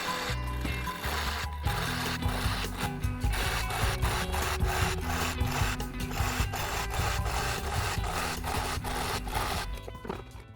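Hand saw cutting small wooden plugs for a custom wooden podium, a steady close rasping of repeated strokes that continues without a break and has no talk over it.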